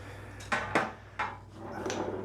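Hot roasting pan handled in a home kitchen while cooking a Sunday roast: a few sharp metallic clanks and knocks, spaced irregularly, close and moderately loud over a low steady hum.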